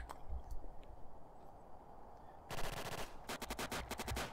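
A PPSh submachine gun in a multiplayer video game fires fast automatic bursts after a quiet stretch, one long burst followed by a rapid string of clattering shots, fairly close.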